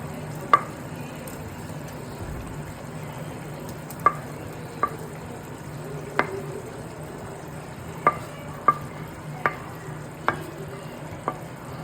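Prawns for a Kerala-style prawn roast sizzle in a pan under a soft frying hiss, punctuated by sharp, irregular clicks of a utensil stirring against the pan.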